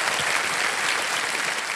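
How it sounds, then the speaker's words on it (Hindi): Loud, dense studio audience applause for a contestant on the Kaun Banega Crorepati quiz show, a continuous roar of clapping from a large crowd with no break. "एक बार जोरदार तालियां बज जाए तो जिंदर जी की।"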